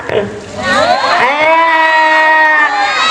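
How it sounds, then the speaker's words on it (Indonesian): A group of children cheer and shout together in a loud, sustained burst, voices rising and holding close by. "Tepuk tangan dong untuk Ipul."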